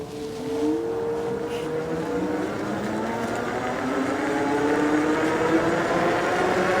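Senada Herald Pro electric bike coasting downhill on throttle alone, a steady motor whine rising in pitch as speed builds, mixed with continuous wind and road rumble, no talking.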